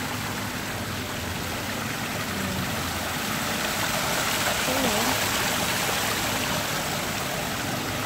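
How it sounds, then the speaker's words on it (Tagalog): Steady flowing water runs continuously, a broad even rush heard close by in an outdoor setting in Salmiya, Kuwait, with no break in the sound. "Tubig."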